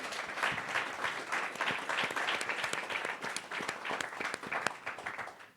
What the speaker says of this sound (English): please give Chuck a round of applause